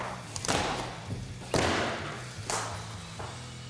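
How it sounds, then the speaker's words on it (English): Wood snapping and cracking during deck building, heard as three or four sharp loud cracks and thuds spaced about a second apart, each with a brief splintery tail over a low background hum. "I love the sound of snapping wood"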